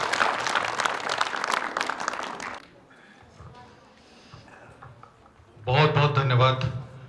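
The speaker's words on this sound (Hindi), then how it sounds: "आपकी जोरदार तालियों के साथ स्वागत कीजिए।" An audience applauding to welcome a guest at an event, a dense burst of clapping that fades into quieter murmuring before a voice begins speaking.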